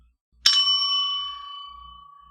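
One bright metallic ding of a small bell, struck once and left to ring out with a clear sustained tone that slowly decays over about two seconds in a quiet room.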